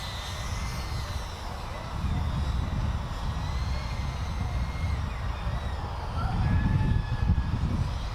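A GEPRC Rocket Lite HD quadcopter drone flies indoors, its motors giving a steady, close whirring drone that swells louder around the two-second mark and again near the end, heard alone without talk.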